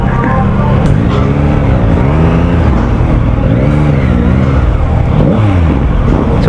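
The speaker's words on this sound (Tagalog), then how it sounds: "mas bassy yung tunog ng inline 3." Yamaha inline three-cylinder motorcycle engine revving loudly and continuously at a Yamaha anniversary test-ride event, its pitch rising and falling in repeated sweeps with a deep, bassy tone, close and dominant throughout.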